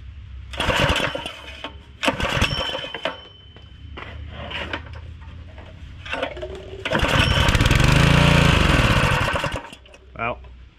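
A junked Generac power washer's gas engine, with its carburetor only loosely attached, sputters through brief bursts. It then catches into a loud, steady roar for several seconds before dying, with someone talking between the attempts.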